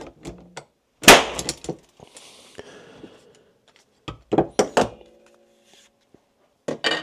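A mini manual steel nail gun fires a nail with one sharp, loud bang, followed by scattered clanks and handling knocks of the tool, close and without any talk.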